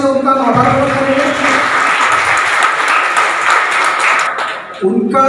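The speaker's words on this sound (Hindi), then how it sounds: "एक बार जोरदार तालियों से उनका आभार व्यक्त करेंगे।" Loud audience applause at an International Heart Day community event in Dhule, a dense, steady burst of clapping that swells and holds, with a voice at the start and again as it ends.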